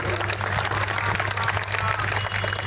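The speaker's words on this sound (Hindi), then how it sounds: "मित्रों बहुत बढ़िया तालियां बजा रहे हैं" Audience applause at a Hindi poetry gathering (kavi sammelan) held at a district Gandhi library, steady broadband clapping from a crowd for the whole stretch over a constant low hum.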